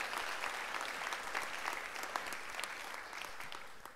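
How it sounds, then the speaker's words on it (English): Audience applause fills an awards gala hall, a steady wash of clapping from a large crowd that holds at even loudness throughout with no talk over it. "Give him a round of applause just at the mention of his name."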